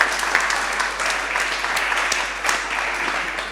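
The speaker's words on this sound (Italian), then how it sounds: "Meritatissimo applauso" Sustained audience applause at a panel presenting the series 'Non mi lasciare', many hands clapping in a steady, even roar with a few sharper claps standing out.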